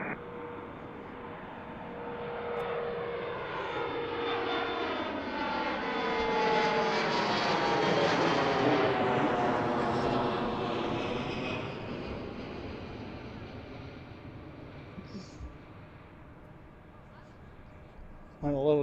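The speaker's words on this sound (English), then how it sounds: "there's one landing already" Airliner landing at Washington Reagan National Airport, heard from nearby as a roaring engine sound that swells, passes overhead with a sweeping tonal shift, then fades over about twenty seconds.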